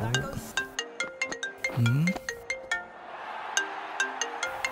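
A phone ringtone plays a bright, plucky melody of repeated notes in a steady rhythm, clear and close with no talking.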